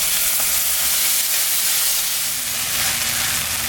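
A paste of ginger, cumin, dried and green chillies hisses and sizzles steadily in hot oil in a pot for a country-chicken curry, a loud continuous crackle with no talk.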